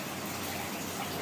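Water poured into a hot frying pot makes a steady, dense hiss and gush that holds for about a second, close and without a break.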